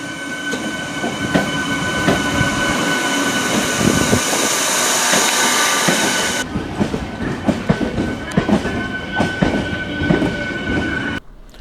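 A MEMU electric passenger train on the Alappuzha route runs past close by, a loud rolling rumble with rhythmic clickety-clack of wheels over rail joints and occasional squeals, dropping abruptly to a quieter clatter partway through.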